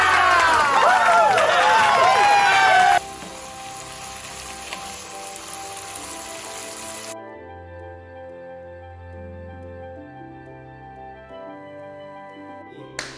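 Food frying in a pan gets a final stir, loud crackling sizzle with scraping at first, then settling into a quieter steady sizzle that fades to a faint hum.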